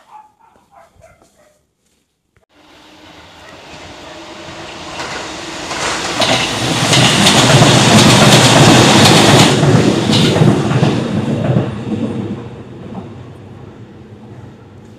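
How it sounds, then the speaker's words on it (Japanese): A Seibu Tamagawa Line train passes close by outdoors near an open-cut culvert, rising from quiet into a loud, sustained rumble with rail clatter that swells for several seconds then fades, after a few faint sounds at the start. "この外からね、電車が通過するシーンをね、"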